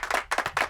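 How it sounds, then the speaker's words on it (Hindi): A classroom of students claps hands, a short burst of three quick, close clusters of claps. "तालियां बजाओ।"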